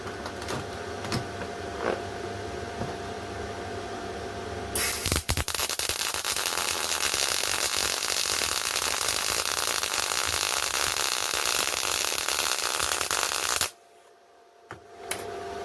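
A Hitbox MT2000 MIG welder runs at reduced wire feed, giving a continuous close, crackling sizzle that starts abruptly, holds steady for about nine seconds, then cuts off, with quieter hum and clatter before and after.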